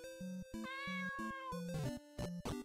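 A cat meowing in the video game Dragon Warrior Alchemy, a Dragon Quest remix: synthetic chiptune meows sliding in pitch, repeated several times over looping game music.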